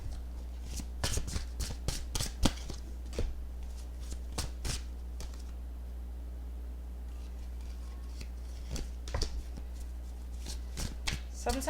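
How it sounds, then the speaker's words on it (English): Crisp riffling bursts of cards being shuffled, several quick flurries early on and again near the end, with a steady low hum underneath. "Sometimes the cards decide to be shuffled one way, another way they decide to do it another way."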